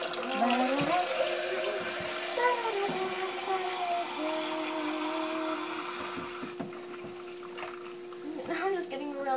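Cups are rinsed under a running tap, water hissing and splashing steadily with shifting tones as the cup is turned, under a person talking throughout.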